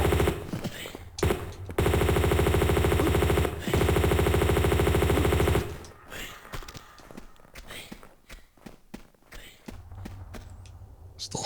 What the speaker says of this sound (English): Should be better if I get the rifle out.